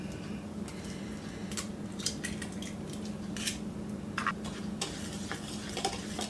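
Cornbread batter of eggs and milk is stirred in a bowl for a Tex-Mex casserole: soft wet squishing and scraping strokes repeat close up with a light clink now and then.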